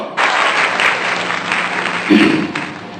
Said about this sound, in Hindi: अगर कभी ने सत्य लिख दिया हो तो तालियों के आशीर्वाद चाहूंगा।